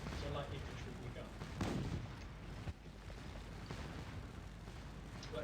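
Artillery fire in the Scourge of War battle game: a dense, continuous rumble of distant cannon booms and musketry, with a couple of heavier thuds standing out from the steady din.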